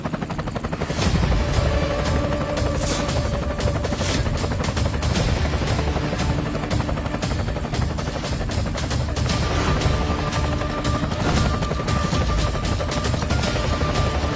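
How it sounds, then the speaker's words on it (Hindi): A helicopter roars close and loud throughout, its rotor chop forming a dense rhythmic thrum with a steady whine, sustained without pause and with no talk. "अरे ये तो करोड़ों का हेलीकॉप्टर है"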